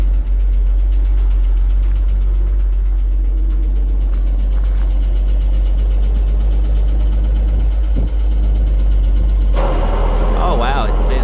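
A 1974 Ford farm tractor runs loud and steady with its PTO shaft spinning underneath, a continuous low engine drone with knocking, and voices talk over it; near the end a brighter mechanical whine rises.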